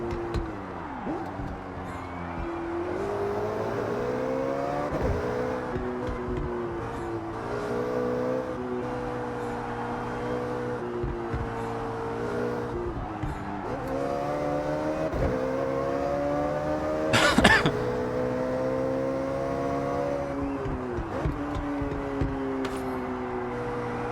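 Turbocharged car engine in Forza Horizon 6 revs steadily, rising and falling through gear changes for the whole stretch, with a brief sharp burst near the end and no talk over it.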